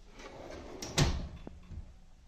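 A Husky tool box bit drawer slides open once with a short metallic scrape and clunk, close by in a quiet room.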